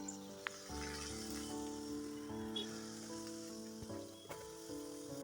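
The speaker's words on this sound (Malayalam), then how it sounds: "ഈ പൊട്ടാറ്റോ ഗ്രേറ്റ് ചെയ്ത് വെച്ചിരിക്കുന്നത് ഷേപ്പ് കൊടുത്തിട്ട് ചൂടായ എണ്ണയിൽ ഫ്രൈ ചെയ്തെടുക്കുവാണ്" Grated potato shaped into a nest and frying in hot oil in a small kadai, a steady soft sizzle and bubbling that runs throughout with a faint hum underneath.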